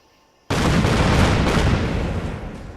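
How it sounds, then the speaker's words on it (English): Artillery fire in Fallout 4 with the Sim Settlements 2 mod: after half a second of near silence, a sudden loud blast of shelling erupts into a dense, sustained roar of booms that slowly fades. "Oh, the artillery."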